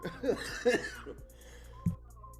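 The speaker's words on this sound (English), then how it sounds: "You're making me cough." A couple of short coughs mixed with light laughter, then a single sharper cough near the end, close and moderately loud.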